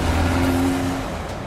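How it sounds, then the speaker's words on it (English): A 2022 VW Golf R hot hatch accelerates on an open road, its engine holding a steady, loud drone with a sustained tone that fades slightly toward the end, heard alone with no talking. "The new engine feels even more responsive."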